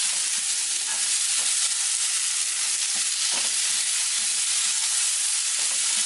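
Julienned potato strips stir-frying in a pan for a homemade Korean potato side dish, giving a steady close sizzle and hiss with light stirring scrapes throughout.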